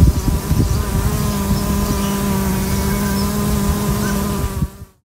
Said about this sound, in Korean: 드론이라는 이름은 벌이 윙윙거리는 소리에서 따왔습니다.